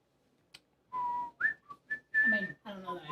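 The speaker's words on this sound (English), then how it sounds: "No more whistling." A person whistles a short, broken melody of sustained notes and quick slides, close and clear, with a brief click just before it starts.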